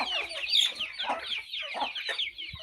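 Several chickens cluck and squawk close by in a busy, overlapping chorus with no pauses.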